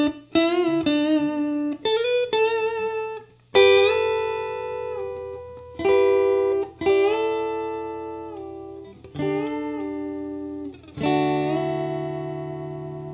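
Electric guitar fitted with a rolling B-bender plays melodic pentatonic phrases, with sustained notes bending smoothly up and down in pitch. Several phrases are picked in sequence with clear attacks, close, loud and alone, with some effects and reverb.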